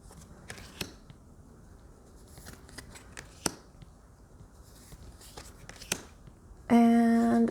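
Oracle cards being shuffled by hand, a series of soft, sparse riffles and taps at close range, ending with a brief burst of voice.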